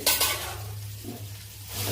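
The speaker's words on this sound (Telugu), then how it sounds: "బాగా కలిపి అన్నానికి బాగా పట్టేటట్టుగా పోపు కలిపి బాగా ఇట్లా కలుపుకోండి" A brief scrape and soft sizzle as a spoon stirs cooked rice into a tempering in a pan for lemon pulihora, over a low steady hum.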